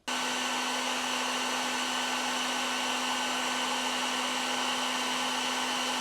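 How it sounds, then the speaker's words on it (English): A heat gun blows a loud, steady airflow with a constant whine as it shrinks heat-shrink tubing on electrical connectors during a kayak power system install, running without a break and with no talk. "so now we are going to start shrinking our connectors down."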